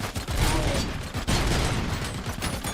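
Dense, continuous gunfire from the RoboCop: Rogue City video game, with rattling automatic bursts and mechanical clatter filling the whole stretch at steady loudness.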